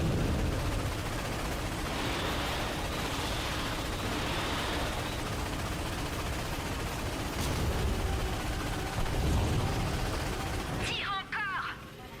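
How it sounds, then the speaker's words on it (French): Watchtower ion cannon blasts in the Ratchet & Clank PS4 game, heavy booming gunfire-like bursts over a dense rumbling battle mix, with a sharper crack near the end. "Utilise le canon ionique de la tour de garde."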